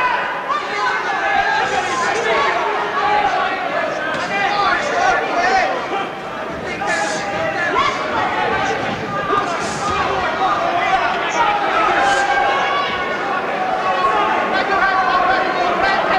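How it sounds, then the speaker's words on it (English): A boxing crowd roars steadily behind fighter Pyatt, a dense continuous cheer and murmur of many voices from the arena, with a commentator talking over it throughout. "Certainly the crowd getting right behind him now"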